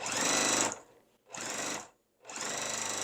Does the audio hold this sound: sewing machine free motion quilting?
yes